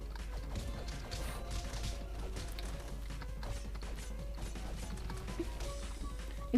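Boss battle music from the side-scrolling beat-'em-up game Castle Crashers, a busy, dense track with steady rhythmic layers playing continuously at even loudness, mixed with clanking in-game combat effects and no talk.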